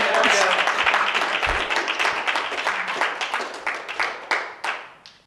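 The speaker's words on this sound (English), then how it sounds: "it's clapping time" An audience at a Denver Modern Web talk applauds, dense clapping at first that gradually thins out into a few scattered, fading claps.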